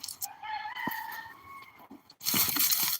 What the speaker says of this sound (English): you hear our rooster crowing